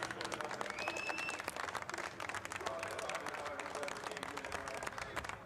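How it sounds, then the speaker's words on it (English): Applause from a grandstand carrying across the pit lane at a Brands Hatch GT race, a steady distant patter of clapping with faint whistles and crowd noise throughout. "So nice applause coming across the pit lane from the grandstand as well."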